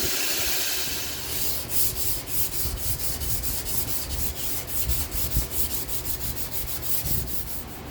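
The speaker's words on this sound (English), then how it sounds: "So time to clean it up and get it ready for hand sand." Hand sanding of a ball bearing washer Damascus steel knife blade, a steady rhythmic rasping scrub repeated in quick back-and-forth strokes, close and continuous with no voices.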